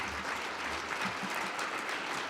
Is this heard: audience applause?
yes